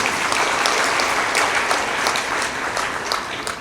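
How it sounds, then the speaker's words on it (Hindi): Brief burst of clapping from the crowd at a devotional bhajan and discourse gathering in Farukhabad, a dense patter of hands with a few sharper individual claps standing out, carrying on briefly with no talk over it. "ताली बजा दो, उनके अभिनंदन।"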